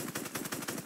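Rapid automatic gunfire in Fortnite Chapter 2, a fast burst of about six evenly spaced shots filling the whole moment, fairly quiet and alone with no talk.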